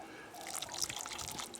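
A small amount of water is poured gently into a garlic planting hole, giving a soft, continuous trickle over a short stretch with no voices.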